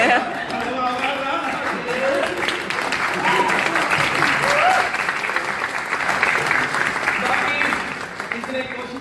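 An audience claps steadily and loudly at a comedy show launch on stage, with the applause running throughout and voices talking faintly underneath.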